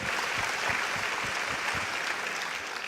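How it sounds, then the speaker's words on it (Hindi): Sustained audience applause, a dense wash of many hands clapping steadily with no voices over it. "तो जोरदार तालियां डॉक्टर विवेक बिंद्रा और बड़ा बिजनेस के लिए।"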